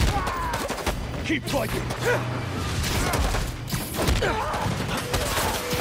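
Gunfire in the video game Spider-Man 2 during a fight with Scorpion: dense, continuous bursts of shots and loud battle noise fill the scene, with game characters shouting over the action.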